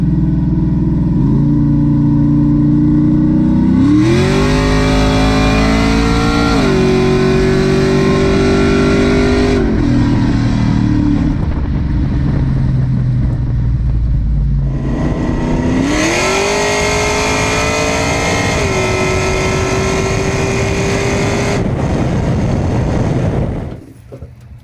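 A Chevy S10 with a 5.3L engine, nitrous and a 2-step launch control launches on slicks, revving loud and close through two hard runs of climbing gear pulls before abruptly falling quiet.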